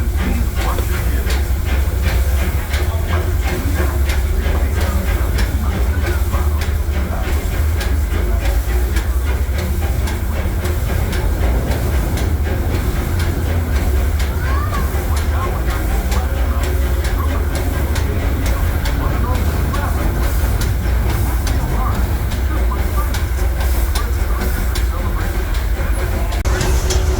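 A Disneyland Railroad steam train rumbles steadily along the track with constant low mechanical noise and hiss, while a voice talks over it throughout.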